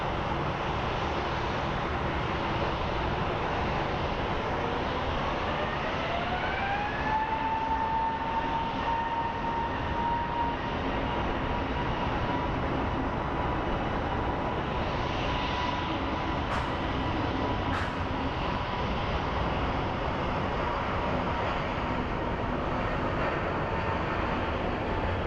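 An airliner at Phoenix Sky Harbor airport gives a steady, loud engine roar for the whole stretch, with a rising whine sweeping up partway through and no talking.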